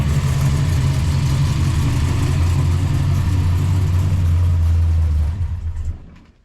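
An Oldsmobile car engine runs steadily after starting, a loud, close, low rumbling idle that holds even for about five seconds before dropping away and cutting off.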